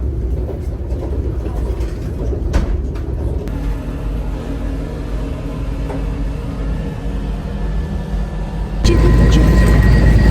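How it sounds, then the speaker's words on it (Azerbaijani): A train moving at Ujar station makes a continuous low rumble with faint rail clatter, rising to a louder, denser roar near the end. "İndi baxın qatar gedəcək."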